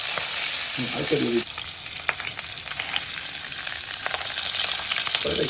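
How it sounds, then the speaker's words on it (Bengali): Chicken frying in pure ghee for Saudi-style kabsa, a loud, dense sizzle that runs without break, with occasional clatter of stirring and a brief low murmur near the pot. "চিকেনটা একটু ফ্রাই করে নিচ্ছি"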